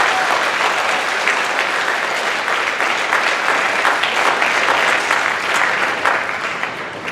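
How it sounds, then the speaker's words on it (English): Steady, dense applause from an audience at a school National Honor Society induction ceremony, filling the room at even loudness throughout and tapering slightly at the end. "Inductees, please give them a round of applause for everything they do"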